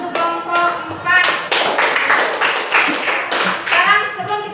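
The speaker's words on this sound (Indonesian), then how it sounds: "Tepuk tangan dulu untuk kelompok 4." Students in a classroom applaud a presenting group with a burst of clapping that rises, holds for a few seconds and then fades, while voices mix in faintly.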